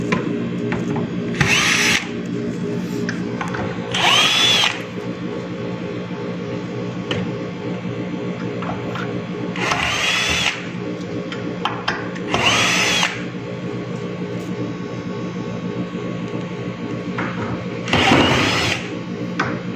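A power drill drives screws while tables are being installed, with short whirring bursts of a second or so repeating at irregular intervals over a steady background hum.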